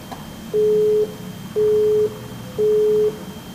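Busy tone on a telephone line after a call drops: three steady, even beeps of equal length separated by short gaps, clear and loud over faint background hiss.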